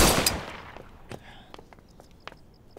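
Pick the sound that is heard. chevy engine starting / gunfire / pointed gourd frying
gunfire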